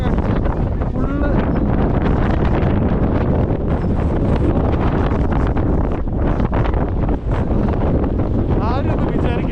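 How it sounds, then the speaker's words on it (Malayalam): Strong wind on snowy Mount Hutt near Christchurch, Canterbury, roars and buffets the microphone in a loud, continuous rumbling rush that never lets up. "ആരും ഒന്നും വിചാരിക്കരുത് നല്ല കാറ്റുള്ളതാണ്"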